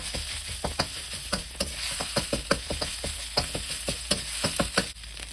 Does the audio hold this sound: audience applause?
no